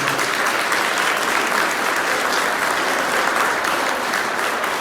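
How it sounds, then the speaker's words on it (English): Steady, dense applause from a town hall meeting audience, loud and sustained throughout with no talking over it. "Please give them a round of applause."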